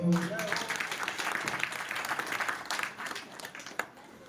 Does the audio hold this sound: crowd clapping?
yes